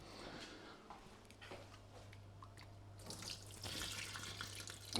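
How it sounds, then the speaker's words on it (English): Water poured off grated potatoes runs into a kitchen sink as a steady, moderately close splashing flow that grows fuller toward the end. "Just pour the water in the sink."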